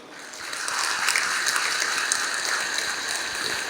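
Audience applause at a Hindu religious discourse in a temple, a dense, steady burst of many hands clapping that swells in and holds, close and loud, without speech.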